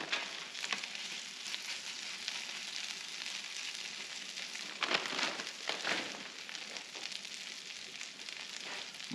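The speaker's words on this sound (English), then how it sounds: "These ones are frozen, and they're I'm gonna put them on the griddle frozen." Frozen hash browns sizzle steadily on a Blackstone griddle, a dense, even hiss that stays close and constant with a few brief louder crackles and scrapes, and no voices.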